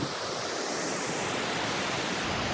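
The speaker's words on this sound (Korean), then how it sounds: "여기가 지질 명소인 3단 복례폭포입니다" Three-tier Bokrye waterfall on Ulleungdo island, a dense, steady rush of falling water heard up close, loud and unbroken with no voices.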